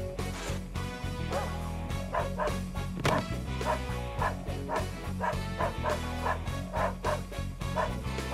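A dog barks in repeated rhythmic yips and bow-wows in the kitchen level of Army Men: Sarge's Heroes on Sega Dreamcast, loud and steady over background game music.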